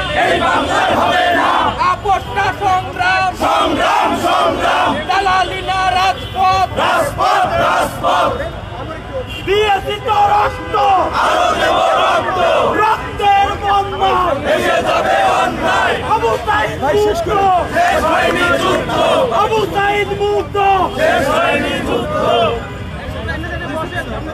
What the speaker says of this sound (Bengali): তারা কিন্তু স্লোগান দিচ্ছিলেন